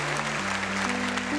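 Steady applause from a church crowd at a Catholic worship night, with a low sustained tone humming underneath throughout.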